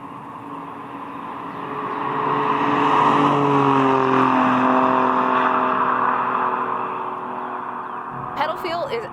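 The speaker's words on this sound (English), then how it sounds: "there's some road noise and some wind noise around me" Steady road roar and wind rush fill the cabin of an Alfa Romeo Giulia Quadrifoglio at speed, a broad constant hum with low engine tones swelling and easing, while someone talks over it.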